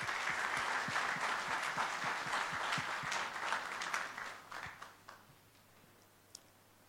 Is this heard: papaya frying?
no